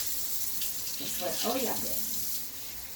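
Cold water running from a kitchen tap into a measuring cup, a steady hissing stream that continues throughout and rises slightly in the middle, with someone briefly speaking over it.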